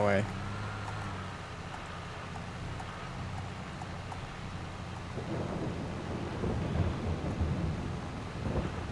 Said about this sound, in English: Oh god, it started to rain.